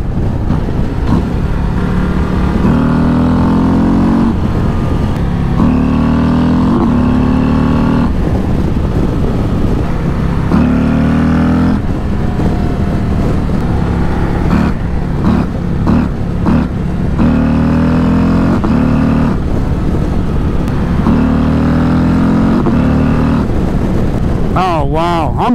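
A 2024 Harley-Davidson Road Glide CVO ST motorcycle pulling hard in fifth gear toward 6,000 RPM, its engine note climbing repeatedly in long rising sweeps under steady wind roar, loud and continuous, with a rider talking over it.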